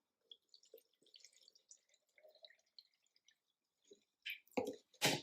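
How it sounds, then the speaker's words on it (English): Water is poured into a container of pigment during processing. Soft drips and trickles come first, then louder splashing bursts near the end. The sound is close and quiet, with no talking. "And I cover it with water."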